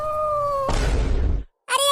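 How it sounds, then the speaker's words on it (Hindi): A cartoon cat lets out a loud, sustained yowl with a steady wavering pitch, followed by a harsh noisy screech that cuts off, then a brief renewed wail. "अब ये बिल्ली क्यों चिल्लाने लगी?"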